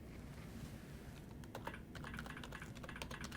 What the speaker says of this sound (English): I'm just going to type in a search.